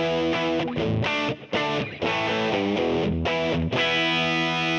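Distorted electric guitar plays chords and short riffs with a plate reverb preset, in a rock tone, loud and sustained with brief gaps between phrases, no voices.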